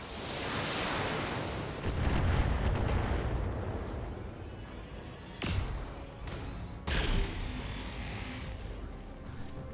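Weapons fire and explosions in the BattleTech video game: a dense, continuous rumble of blasts with heavier booming hits around the middle and near the end, no voices.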